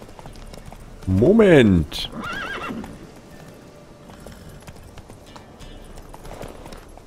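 A horse in The Witcher 3 gives a loud, close neigh and whinny, followed by lighter clip-clop of hooves, while someone comments over the game sound.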